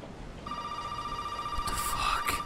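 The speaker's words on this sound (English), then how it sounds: "The phone's ringing." In Resident Evil 7, a telephone gives one long, steady electronic ring at moderate volume over low ambient noise, with a few short bursts of other sound near the end.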